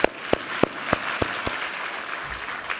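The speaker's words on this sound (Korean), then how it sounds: "우리 하나님께 감사와 영광의 박수 올려드리겠습니다" Congregation in a Korean church Sunday service clapping in unison: about six sharp, evenly spaced claps roughly a third of a second apart, then the rhythm loosens and fades into a softer murmur of scattered hands.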